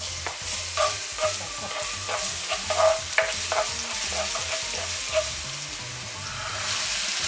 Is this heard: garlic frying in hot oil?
yes